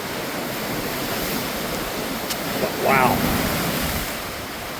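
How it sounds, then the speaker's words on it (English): Surf washing against rocks beneath the Glass Window Bridge in Eleuthera, Bahamas, on a calm day with small two-foot waves: a steady, broad roar of water mixed with wind noise on the microphone, with a brief voice speaking near the end. "That thumping sound you hear, the waves on the rock"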